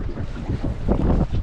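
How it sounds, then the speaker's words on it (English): Gusty wind buffeting the microphone with a low rumbling roar, steady and close, no voices. "It's quite windy, so I'm going to do it quick."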